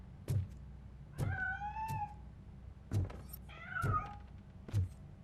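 A cat meows in the RoboCop: Rogue City video game: two drawn-out, wavering meows with a few soft thumps between them, heard clearly with no talking.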